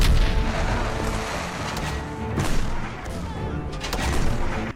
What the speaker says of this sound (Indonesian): Senjata anti-tank mulai di-loading dan tembakan pun mulai mereka lepaskan.